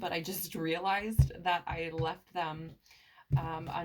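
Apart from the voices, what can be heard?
No everyday noises stand out.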